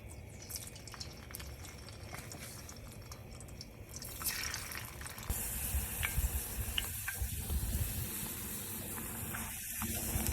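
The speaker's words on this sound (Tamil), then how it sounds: "எண்ணெய் காயும் போது இது கொஞ்சம் கொஞ்சமாக எடுத்து போடணும்" Cauliflower batter mixture dropped bit by bit into hot oil, setting off a steady close sizzle that grows louder midway, with a few soft drips and stirring noises on top.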